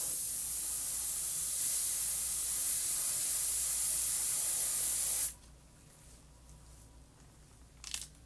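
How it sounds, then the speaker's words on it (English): An airbrush sprays paint with a steady, close hiss for about five seconds, then stops abruptly, leaving quiet room tone broken by a brief small clatter near the end. "Airbrushing doesn't have to be complicated"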